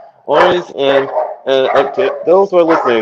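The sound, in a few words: dog barking in background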